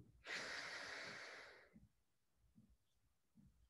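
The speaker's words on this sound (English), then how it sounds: "Breathing in and out" One long, forceful inhale through the nose during a qigong breathing exercise, close and loud, followed by quieter faint breaths.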